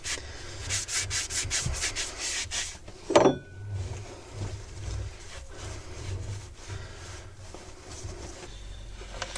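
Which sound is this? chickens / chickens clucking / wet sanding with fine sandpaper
wet sanding with fine sandpaper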